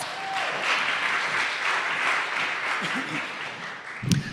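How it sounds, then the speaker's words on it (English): Audience applause at a fringe festival opening ceremony in Boulder, a steady crowd of clapping hands with a faint voice briefly audible near the end. "Give him a round of applause."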